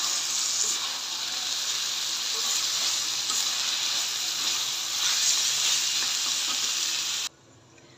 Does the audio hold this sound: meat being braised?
yes